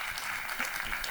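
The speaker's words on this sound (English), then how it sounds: "Give her a round of applause." A brief burst of audience applause at a library talk with a celebrated photographer, steady clapping from a crowd heard somewhat distantly.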